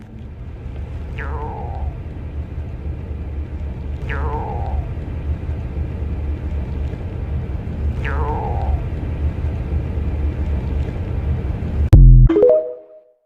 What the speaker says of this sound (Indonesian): ini adalah suara gelombang tekanan dari gugusan galaksi Perseus, suara dengungan dari lubang hitam